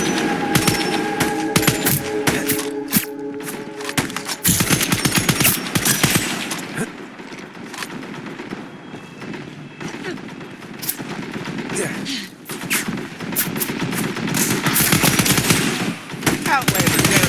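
Rapid submachine gun bursts from the shooter game Scavengers crackle loudly and almost continuously, mixed with other in-game effects and music, with brief pauses between volleys.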